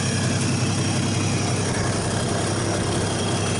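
A 1951 Studebaker engine idles steadily after its first start in over 40 years, running off the fuel pump; a close, constant low rumble fills the short stretch with no speech.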